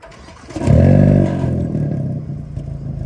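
A 2023 Hyundai Elantra N with its factory, unmodified exhaust starts up close by, a cranking clatter that bursts into a loud rev and then settles into a steady, rumbling idle.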